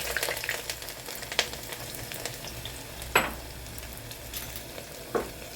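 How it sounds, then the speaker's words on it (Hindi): Two medium onions, sliced, sizzle in hot oil for a keema baingan dish. A soft continuous frying hiss runs throughout, broken by a few sharp clinks of a spoon against the pan. "अब हम इसमें तेल के अंदर हम डालेंगे 2 मीडियम साइज़ की प्याज को हमने स्लाइस में काटा है, इसको डाल देंगे।"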